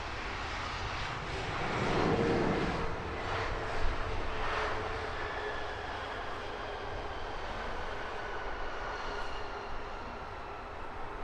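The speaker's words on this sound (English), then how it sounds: "Shuttle service from British Airways, next to arrive here on 27 right, in from Aberdeen on an A319." A British Airways Airbus A319 arriving from Aberdeen on Heathrow's runway 27 right: a steady, moderately loud airliner roar with a broad whine, holding fairly even throughout and swelling slightly early on.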